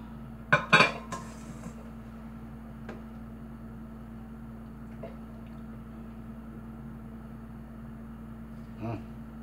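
Dishes and a small bowl clink while fish tea soup is served at home, a quick cluster of bright clatters near the start, then a faint knock or two over a low steady hum, with a last soft clink near the end.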